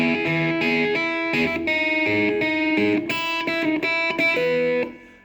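Electric guitar with effects playing the intro of a song as a barre chord study, ringing chords and picked notes with a distorted, chorused tone, steady and loud, fading out at the end, no talk.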